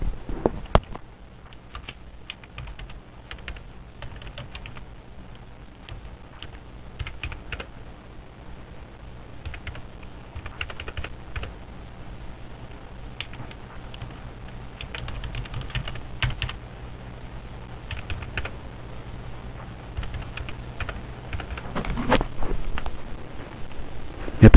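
Steady typing on a computer keyboard while accounting transaction data is entered, with continuous light key clicks and occasional louder taps throughout, close and alone with no speech.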